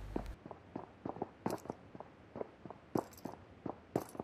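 In PUBG Mobile, footsteps on the third floor carry down from above, a quieter, slightly muffled series of regular steps with a few brighter scuffs, heard alone without any voices.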